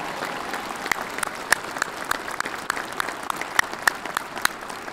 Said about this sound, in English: Now I expect a louder applause for these two